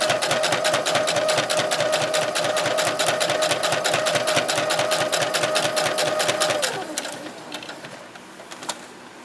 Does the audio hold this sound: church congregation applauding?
no